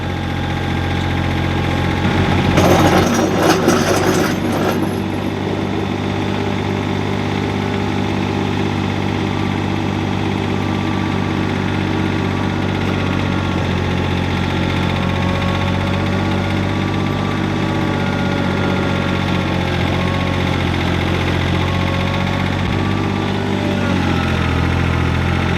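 A John Deere 855 compact tractor idles steadily after a cold start, its diesel engine holding a low, even hum with a brief louder burst of noise near the start, continuing close and constant throughout.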